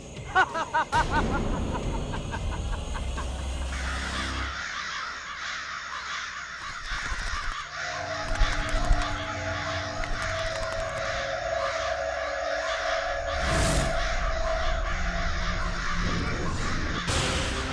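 Crow cawing in a Hindi TV suspense serial scene, repeated harsh caws over a busy background of music and noise, fairly loud and close.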